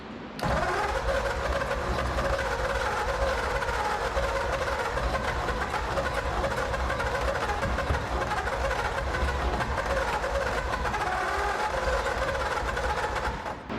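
A 1935 Ford Coupe flathead V8, parked for 50 years and low on compression, cranks on its starter for a long, steady, loud stretch with a continuous mechanical churn and no catch or talk.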